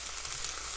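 Peppers sizzle in a hot frying pan over medium-high heat for a Cantonese stir fry, a soft, steady crackling hiss heard briefly and fairly quietly.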